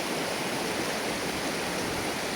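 Steady, broadband rush of a river stream flowing nearby, loud and continuous with no break and no voices.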